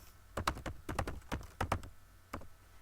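Soft, quick clicks of typing on a computer keyboard, a few short clustered bursts of keystrokes with brief pauses, faint and close, no talk.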